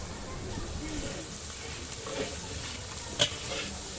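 Butter hits a hot pan and sizzles, a soft, steady frying hiss with light stirring and one sharp clink near the end.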